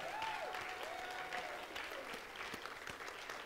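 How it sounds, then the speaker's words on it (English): A church congregation claps for the Lord, a dense steady round of applause from many hands throughout, with a faint voice and a high tone sliding in the background. "let's give the Lord a hand clap"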